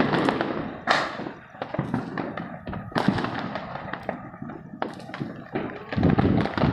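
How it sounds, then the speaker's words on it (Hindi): Repeated Diwali firecrackers bursting at irregular intervals in Ranchi, India, some sharp and close, others softer, with crackling between the bangs. "अच्छा पटाखा फोड़ रहा, अच्छा पटाखा फोड़"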